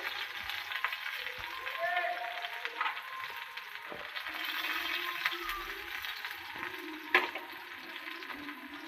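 Onion and curry leaves fry in a pan for an eggplant curry, giving a soft, steady sizzle with a few light clicks and scrapes. No one speaks.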